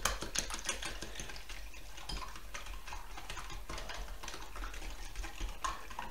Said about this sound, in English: you want a hand whisk and just whisk them up